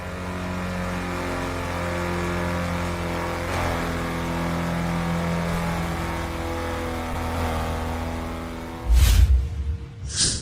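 A racing car engine in a mobile open-world driving game holds a steady, layered drone that rises and falls in pitch as it revs, then ends with a sudden loud roaring burst near the end.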